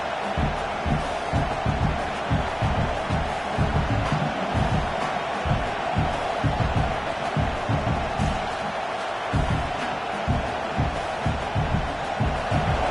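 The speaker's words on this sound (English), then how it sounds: "this crowd is fired up. Listen to this noise here." A large football stadium crowd roars steadily throughout, with rhythmic clapping or stomping pulses underneath and occasional whoops, loud and sustained.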